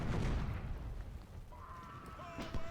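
24-pounder cannons fire in the Civil War strategy game Ultimate General: Civil War, a deep boom at the start rolling into low rumble, followed by faint tonal sounds.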